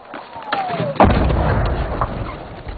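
A rocket explosion strikes inside a US base in Afghanistan, a sudden heavy thud and boom followed by a sustained rumbling roar, close and loud, with shouting voices nearby.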